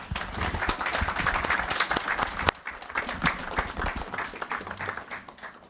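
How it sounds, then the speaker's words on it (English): An audience at a Transgender Day of Remembrance gathering at the VA applauds its speakers, dense steady clapping that is moderately loud and continues for several seconds, with a brief sharp knock partway through and no speech over it. "Let's give our speakers a stronger round of applause for their honesty and courage."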